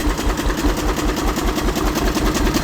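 A 1920 International Harvester stationary engine running with a tractor muffler fitted, a loud, close, steady chugging rumble with fast regular pulses, no talk.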